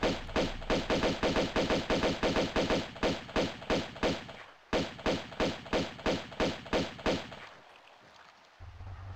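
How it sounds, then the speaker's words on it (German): Pistol fire in the video game Tomb Raider II: a long, steady train of evenly spaced, punchy shots, a short break, then another regular run before it trails off into quiet, with no voices. "Kann ich mit den normalen Pistolen machen, muss keine Munition verschwenden."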